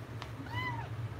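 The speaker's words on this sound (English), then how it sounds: "Meow, meow." A cat at the veterinary clinic gives one clear, rising-and-falling meow lasting about half a second, fairly close, over a low steady hum of room equipment.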